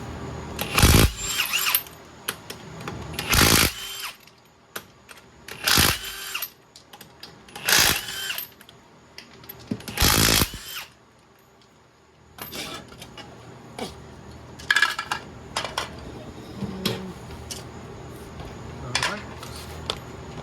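Lug nuts coming off the front wheel of a 1998 Ford Ranger with a 19 mm socket, five loud bursts of power-tool whirring at steady intervals, then quieter clanks and handling noises, with someone talking briefly.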